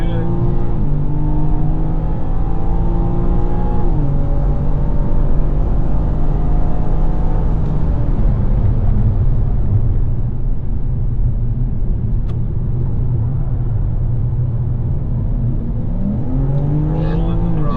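A BMW M4 GT4 race car engine drones loud and steady on a race track at full throttle, pitch climbing and dropping between gear changes and corners, with continuous close interior engine roar throughout.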